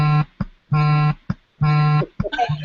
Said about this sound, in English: who has an alarm going off?